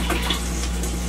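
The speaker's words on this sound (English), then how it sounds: "Here's the microfore toilet, flushing." A Microphor air-and-water toilet flushing in a 1998 Bluebird Wanderlodge bus, a brief steady rush of water close by with no voices.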